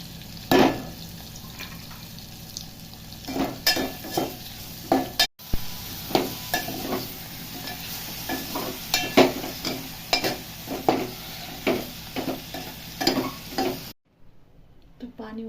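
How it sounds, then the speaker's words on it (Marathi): Utensil stirring and scraping in a hot pan, with repeated clanks and knocks over a steady sizzle of frying, as mixed vegetables with dry fish, ridge gourd, brinjal and potato are tempered and stir-fried; the sound stops abruptly near the end. "हे बघा, भाजीला फोडणी देऊन घेऊ आता आपण."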